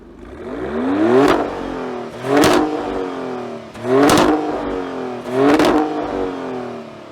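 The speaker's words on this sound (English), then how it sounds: "we should go into Maserati's racing mode or Corsa mode and see what that exhaust sounds like" A 2025 Maserati Grecale Trofeo SUV exhaust revs hard four times in a row in Corsa racing mode, each loud roaring burst rising and falling, with brief lulls between.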